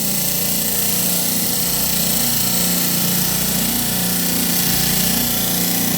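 A blunt diamond saw blade grinds through a slice of hard opal with a continuous, loud, harsh grinding drone that holds close and steady, with slight shifts in pressure along the way.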